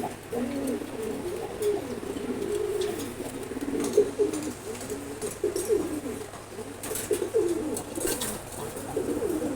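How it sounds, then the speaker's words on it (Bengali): A pair of pigeons cooing close by, soft low throaty coos repeating in an uneven rhythm over faint background noise. "খুবই সুন্দর কবুতর খুবই ফ্রেন্ডলি"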